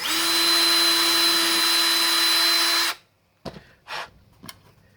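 A power drill, used with tape wrapped on the bit as a depth gauge on a Mitsubishi Sigma 21, whines loud and steady for about three seconds, then stops, leaving a few faint knocks.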